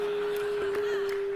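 Electronic tone from an eyeborg color sensor rendering the color yellow: a single steady pure pitch held throughout, loud and clean with faint background noise and no voices.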